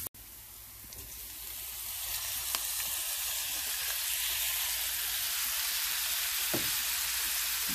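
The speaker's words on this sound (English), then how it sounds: "Sauteing up my onions. Now I'm about to add my fish." Onions sautéing with canned salmon in a pan make a soft, steady sizzling hiss that slowly builds and holds, with a few faint utensil clicks over it.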